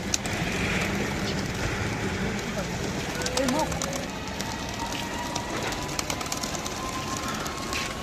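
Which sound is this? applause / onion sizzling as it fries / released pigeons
released pigeons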